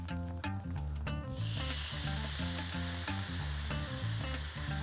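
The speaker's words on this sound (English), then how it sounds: "Now it's time to fry up some bacon." Thick cut bacon frying in a pan: a dense, close sizzle and crackle that swells after the first second and holds steady beneath loud music with a heavy beat.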